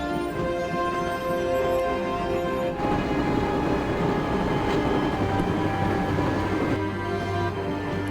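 Steady rumbling train interior ambience from the Broken Sword: Shadow of the Templar Director's Cut video game, a continuous droning rattle with low hum that runs the whole time, with no speech.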